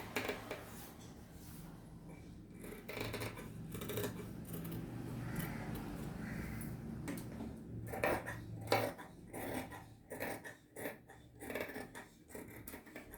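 Scissors cut through blouse lining fabric during work-blouse stitching, giving close, irregular snipping and crisp rustling that grows busier toward the end, with no voices.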